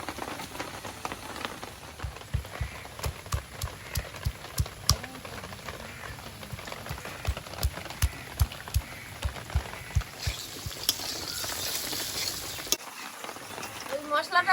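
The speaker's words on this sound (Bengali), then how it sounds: "চারটে কাজু বাদাম চারটে কাঁচা লঙ্কা গুঁড়ো আদা আর একটু চাল মগজ একসঙ্গে বেটে নেবো" Cashews, green chillies, ginger and melon seeds are ground on a grinding stone, giving a run of rhythmic scraping knocks, close and moderately loud, that ends abruptly near the finish.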